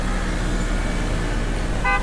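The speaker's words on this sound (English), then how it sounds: "A car swerved around me and honked their horn." A car horn honks briefly near the end of the clip, over a steady roar of close traffic and a swerving car on the road.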